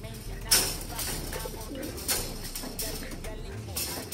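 Soft pigeon coos repeat under steady outdoor background noise, with faint bird chirps now and then.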